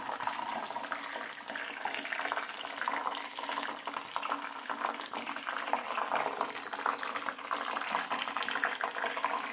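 Coconut milk cooking down in a pot to make homemade coconut oil, a continuous crackling, bubbling splutter with dense fine pops throughout, fairly close and steady with no talking.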